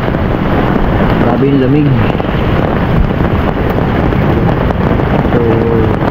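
Strong wind blows on the microphone outdoors while hammock camping by a flowing spring: a loud, continuous rumbling buffet throughout, with a person speaking briefly over it.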